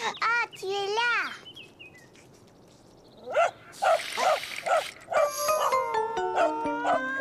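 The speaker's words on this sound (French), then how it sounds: "Caillou avait un peu peur du chien, mais Gilbert, lui, avait vraiment très peur" Cartoon dog barking from a children's animated show, a few loud, spaced barks in the middle after an opening of animated voices and chirpy effects, followed by bright musical tones.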